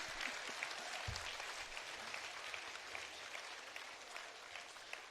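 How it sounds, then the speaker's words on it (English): Audience at a Bharatanatyam dance debut recital clapping for a father, sustained applause from a full hall, steady and moderately distant, with a brief low thump near the start and no speech. "And for that we should also clap for the father."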